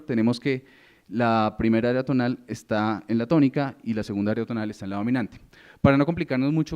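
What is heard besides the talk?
No distinct noise like a dog, phone or traffic.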